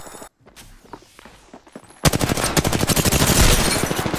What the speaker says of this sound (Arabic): شوف الميني جان تبعي